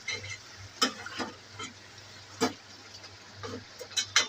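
Mixed vegetables frying in a pan for a Bengali milamish dish, stirred with a utensil: irregular sharp scraping clicks against the pan over a steady low sizzle, close and fairly quiet.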